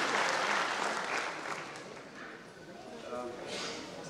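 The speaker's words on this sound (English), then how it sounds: "Can we have a big round of clap for him?" Clapping at an award ceremony honouring a Padmashree recipient, a fairly quiet wash of hands that dips midway and swells again, with a speaking voice coming through partway.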